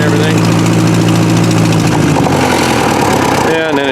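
An old Farmall tractor engine, overgrown and running on what fuel is left in the carburetor, drones steadily and loudly close by, then falters near the end as it dies out.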